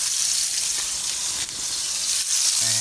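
Burger patties topped with sliced cheese sizzle on a hot grill, a dense, even hiss that stays loud and steady throughout, with a faint tap or scrape near the end and no voices.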